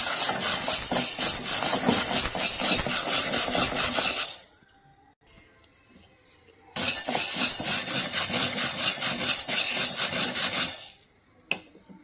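Green gram, rice and ragi dry-roasting in a pan make a loud, steady sizzling hiss with scattered crackles. It cuts off abruptly partway through, goes quiet, then returns just as dense, and there is no talking.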